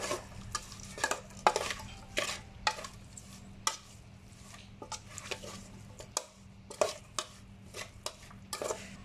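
A spoon or spatula scrapes and clacks against a pan as pork laab ingredients are stirred and mixed, an irregular run of close, sharp strokes over a low, steady hum.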